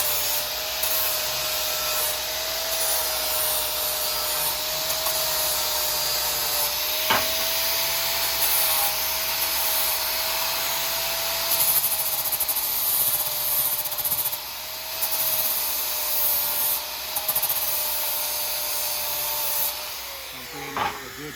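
An angle grinder cuts a bevel into a steel railing for welding, a steady loud whine that grinds on continuously with small dips in pressure and no speech.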